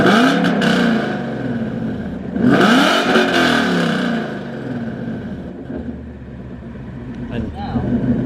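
Gen 3 Mustang fitted with long tube headers and a Borla Attack catback revving loudly up close, rising engine roar swelling twice over a steady rumble, with people talking over it.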